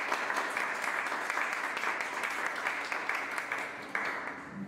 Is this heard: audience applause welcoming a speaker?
yes